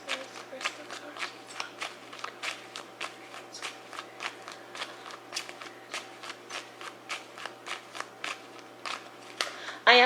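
Tarot cards being shuffled by hand at close range, a steady run of soft riffling slaps and card flicks repeating through the whole stretch, with a louder rustle at the very end.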